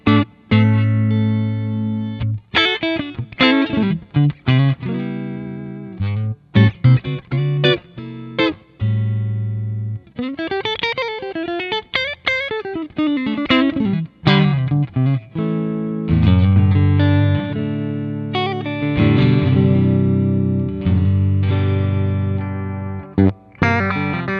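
An electric guitar played through a Victory MK Clean 30 watt combo amp set to the combo setting, with a touch of reverb: loud, close chords and single-note runs, with short pauses and sustained ringing notes, and no talking.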